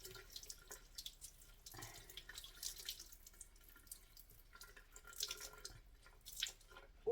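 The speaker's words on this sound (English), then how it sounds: "I will just squeeze that out, it's all wet." Water drips and trickles from a soaked cloth as it is squeezed out over a sink, a close, splashy patter that comes in uneven bursts with no talking.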